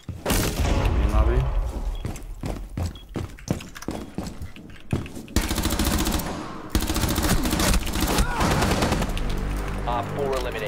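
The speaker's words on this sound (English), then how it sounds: "He's trying to shoot through your fucking legs." Gunfire in Rainbow Six Siege, rapid automatic bursts and single loud shots with thuds and impacts, dense and close, mixed with game noise and voices.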